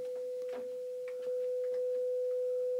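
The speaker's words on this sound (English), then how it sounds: "500 hertz sine wave looks pretty stable to me." Steady 500 Hz sine wave from the audio output of an Amiga computer, a constant pure tone held at even level throughout, with faint clicks and rustles in the background.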